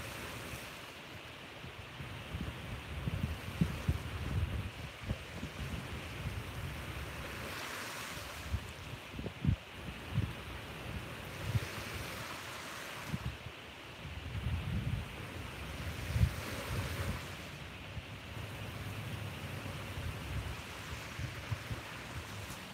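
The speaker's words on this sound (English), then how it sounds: "soak in the colors, the sounds of the baby waves" Small, gentle ocean waves wash onto a beach at sunrise, a soft, steady surf hiss that swells and recedes in slow cycles every few seconds, with light wind buffeting the microphone.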